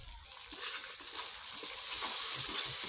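Onion and garlic fry with salt in a pan, giving a soft, continuous sizzling hiss that swells slightly toward the end. It is quiet and close, with no voices.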